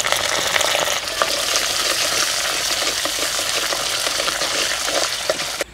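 Dried red chillies and urad dal frying in a little hot oil, producing a loud, dense, unbroken sizzle with faint crackles and a few stirring touches, cutting off abruptly at the end.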